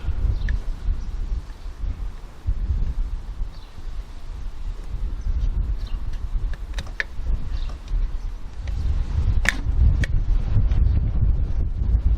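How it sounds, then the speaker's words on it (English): Strong wind rumbles steadily across the microphone, growing louder toward the end, with a few scattered light clicks and rustles. "it's windy all at once."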